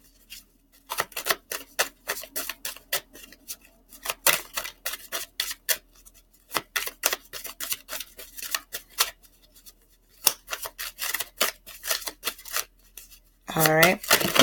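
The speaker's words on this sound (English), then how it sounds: "I was really shuffling those cards." Tarot cards are shuffled in quick riffles and taps, crisp and close, in irregular bursts with short pauses between them. A voice begins speaking briefly at the very end.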